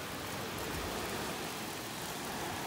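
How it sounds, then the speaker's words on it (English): Steady, dense hiss of heavy rain from a Tropical Storm Gordon band sweeping over the beach in North Naples, an unbroken wash of noise with no voices. "while I'm here waiting for this band of rain to go by"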